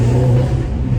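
Loud turbocharged, methanol-injected 460 bhp Stage 3 Audi S3 engine revving hard under boost with a strong low drone, brief and close, no talk.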